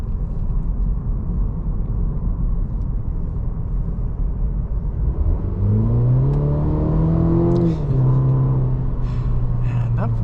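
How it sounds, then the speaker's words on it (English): A 2023 Cadillac CT4 four-cylinder engine rumbles at idle, then revs up with a rising whine and settles into a steady higher drone, loud and close. "And that 4-cylinder sounds really good too. That is a pretty impressive sound."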